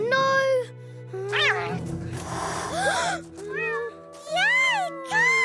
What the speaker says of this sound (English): Yay, cat!